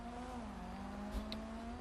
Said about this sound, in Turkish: Motor sesi duydum onu alabilir miyim?